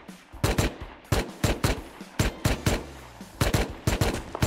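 Rapid video game gunfire aimed at players in a survival base fight, loud close bursts of sharp shots in quick clusters with brief gaps between volleys.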